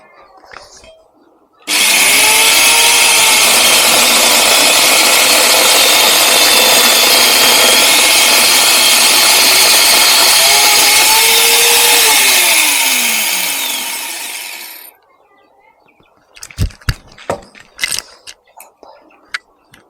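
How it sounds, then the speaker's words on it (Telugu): An angle grinder fitted with a chainsaw attachment cuts through guava wood, a loud, steady buzzing roar for about thirteen seconds before winding down, followed by several sharp knocks and clatters. "చూసారు కదా, ఇది కటింగ్. సో మస్తు కట్ చేస్తుంది ఇది."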